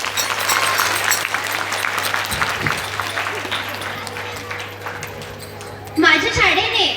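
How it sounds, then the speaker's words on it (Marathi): Applause for a chorus group at a children's kirtan performance in a school, a crowd clapping under a steady electrical hum, with a voice speaking near the end. "आमच्या सर्व चमूंच्या ग्रुप करिता एकदा जोरदार टाळ्या होऊ द्या"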